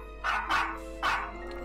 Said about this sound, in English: the 3 dogs came barking along the path and leapt up after them